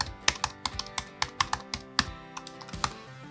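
Close computer keyboard typing while entering text in Adobe Illustrator: a quick, irregular run of crisp keystrokes with a few louder clacks, with no voices.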